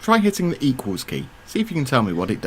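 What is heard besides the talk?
No distinct noise like a dog, phone or traffic.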